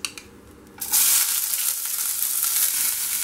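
Onion hits hot oil with cumin seeds in a pan and bursts into a loud, steady sizzle after a few quiet taps, then keeps crackling close up.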